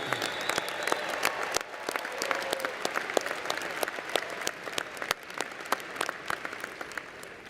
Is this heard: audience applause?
yes